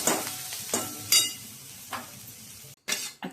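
Ingredients for a chutney roast and sizzle in a hot kadhai, a close, steady frying crackle broken by several scraping stirs of a spoon against the pan.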